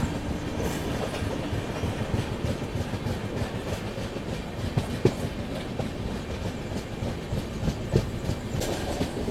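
Rumbling and clattering of the Hubballi to Chennai superfast express 20680 running on the line toward Bengaluru, a continuous steady roar with rhythmic wheel clacks over rail joints, heard from inside the moving train.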